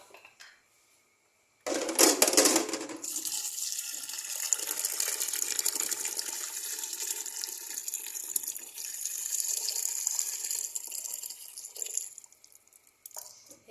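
Water pours into a cooking pot holding wheat grains in a steady, close splashing stream lasting about ten seconds, starting abruptly and tapering off with a few light drips.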